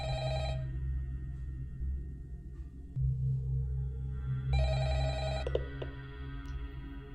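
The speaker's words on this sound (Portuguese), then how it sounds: "um telefone tocando" A telephone rings in a horror movie scene, with bursts of electronic ringing over a heavy low droning hum, repeated with a pause between rings.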